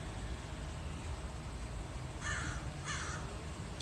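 Outdoors, a crow caws twice in quick succession, a short harsh call each time, fairly near over a steady hiss of background noise.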